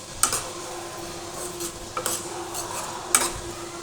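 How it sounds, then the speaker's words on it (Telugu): Onions frying in a pan for fish fry, a steady soft sizzle under repeated scraping stirs of a spoon against the pan, with sharp metallic clinks at irregular moments, close and moderately loud. "ఇప్పుడు ఇవంతా బాగా మిక్స్ చేసేసుకొని లైట్ గోల్డెన్ కలర్ వచ్చేంత వరకు ఫ్రై చేసుకోవాలన్నమాట."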